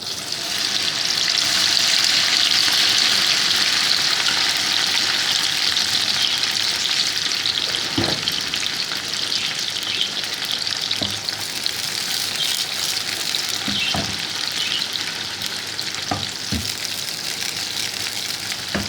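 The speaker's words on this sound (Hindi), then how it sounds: "ये देखें तेल गर्म हो गया है। अब हम इसमें भिंडी डाल देंगे।" Okra fries in hot oil with a loud, dense, steady sizzle throughout. A handful of brief knocks and scrapes from stirring sound over it, with no voices.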